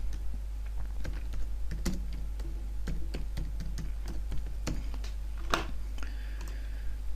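Rapid keystrokes clatter on a computer keyboard as a title is typed into Plaxis 3D engineering software, with irregular close ticks and small pauses over a low steady hum.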